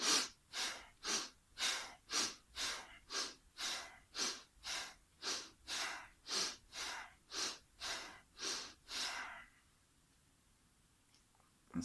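Deep, slow breathing during Taoist embryonic breathing meditation: a long run of about sixteen regular, close breaths in an even rhythm, then a sudden quiet pause.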